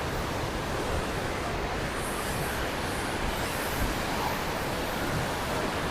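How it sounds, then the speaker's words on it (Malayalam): A strong stream rushes near a dam in a forest tiger reserve, a steady, dense, unbroken roar of flowing water with no voices. "ഈ വെള്ളത്തിന്റെ ഒഴുക്ക് ഭയങ്കര ഒഴുക്കാ"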